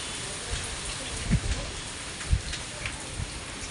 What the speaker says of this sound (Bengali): অনেকক্ষণ আগের থেকে বৃষ্টি ঝড় বৃষ্টি শুরু হয়ে গেছে এই দেখো